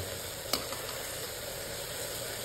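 Masala powder being stirred into cooked, softened tomatoes in a pan for arisi paruppu sadam: a steady sizzle and frying hiss with one sharp clink of the spoon against the pan near the start.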